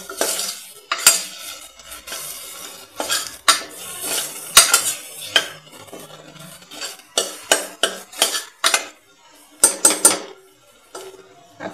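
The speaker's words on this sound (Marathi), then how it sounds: "आणि हे जे आहे ते आपण 1-2 मिनिट साधारण परतवून घेऊयात टोमॅटो घातल्यानंतर" Tomatoes are sautéed in a pan for potato curry, with a spoon scraping and clanking against the metal in sharp, irregular strikes over a faint sizzle, close and loud.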